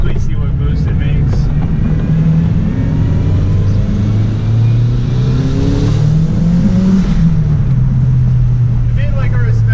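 A turbocharged drift car engine, prepped for a three-day drift event, revs steadily through a boost pull. It gives a loud, sustained drone with rising and falling pitch, and a voice talks over it.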